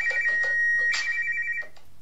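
A smartphone rings after the find-phone icon on a smartwatch is tapped, sounding a loud, steady electronic tone pattern close by, with clicks and short rustling bursts over it before the ringing fades slightly near the end.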